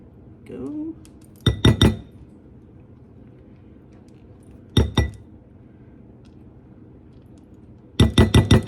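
A spoon scrapes custard for Petunia's pudding from the bottom of a pot, making three bursts of sharp metallic clinks and scrapes with quiet pauses between them, fairly close and with no talking.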